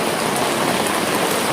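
Steady rain pours down outdoors at the start of the rainy season in the evening, a dense, even hiss that holds at one level throughout with no voices over it.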